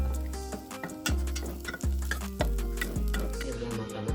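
A spoon stirs a baby-food mixture of steamed rice with mackerel and an added quail egg, making steady rhythmic scraping strokes about twice a second, close and clear.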